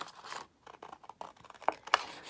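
Scissors cut through stamped paper labels nearby in a handful of short, crisp snips and scrapes, with two sharper clicks toward the end.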